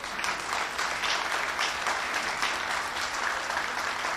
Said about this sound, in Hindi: हमारी अंतरिक्ष की संस्था इसरो के लिए सारे लोग जोरदार तालियां बजाएं।